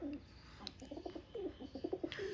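Pigeons, Nafta Cheena birds among them, coo softly in a run of short rhythmic notes, faint and fairly distant, with an occasional light chirp.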